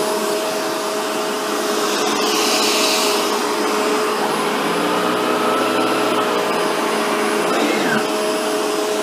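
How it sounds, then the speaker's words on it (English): A Shark Rotator NV752 vacuum cleaner runs steadily on low pile carpet with its brush bar engaged, a loud continuous motor whine with a shifting hum as the machine is tilted back. "As I tilt the vacuum back, you'll notice that the brush bar kicks in"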